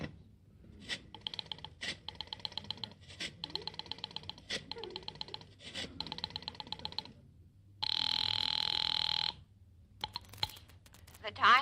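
A telephone rings in bursts after a number is dialed for a live radio show, the repeated ringing is cut by a short steady tone, and voices talk throughout.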